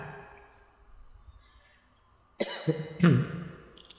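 People in the audience of an evening philosophy study session cough: a quiet stretch, then several loud coughs and throat clears close together near the end.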